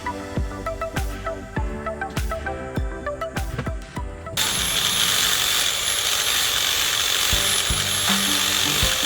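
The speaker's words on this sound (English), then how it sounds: "The sanding begins. The wheel turns, the surface softens." A sanding wheel works a carved wooden fairy house: a few sharp mechanical clicks and ticks come first, then a steady, loud, continuous whirring grind sets in and holds to the end.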